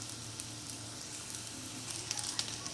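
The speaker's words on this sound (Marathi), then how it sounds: "आणि हे दुसरे वडे टाकून घेऊया. त्याला पण छान फ्राय होऊ द्यायचं." Potato vadas deep frying in hot oil for fasting-style dahi vada, a faint, steady bubbling sizzle with a few light crackles near the end, no talking.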